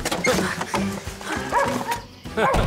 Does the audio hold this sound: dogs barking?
yes